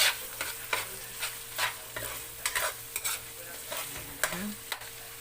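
Garlic fries in a pan, a soft sizzle broken by repeated scraping stir strokes at an uneven rhythm, close and alone without voices.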